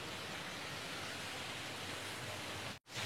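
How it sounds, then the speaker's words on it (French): A small waterfall at natural pools in Ubud pours in a steady, dense rush of water, close and continuous with no voices, briefly cut off near the end. "Il y a la petite cascade là, comme ça."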